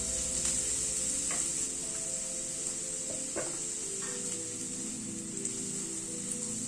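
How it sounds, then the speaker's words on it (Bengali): Onions fry in a pan while being stirred for an egg recipe, a steady bright sizzle with occasional soft scrapes and knocks from the spoon, close and continuous throughout. "পেঁয়াজটাকে একটু হালকা মিনিট খানেক নাড়াচাড়া করে"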